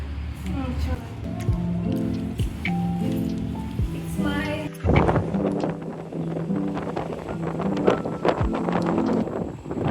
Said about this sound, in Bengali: তবে বেশ ঠান্ডা ঠান্ডা একটা হাওয়া দিচ্ছে